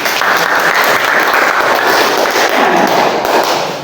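Classroom applause after a student group's physics presentation on Newton's second law, loud, dense clapping from a nearby group sustained throughout and fading slightly at the end.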